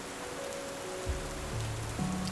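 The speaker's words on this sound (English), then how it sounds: "waiting and listening to the rain falling" Steady rain falls and drips near a cave, a continuous soft hiss with low rumbling tones rising partway through, no voices.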